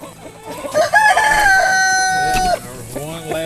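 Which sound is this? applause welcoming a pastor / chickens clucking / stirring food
chickens clucking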